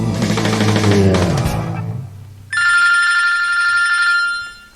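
A telephone rings with a loud, bright electronic trill that starts suddenly and holds steady for about two seconds, after a burst of music and sound that stops before it.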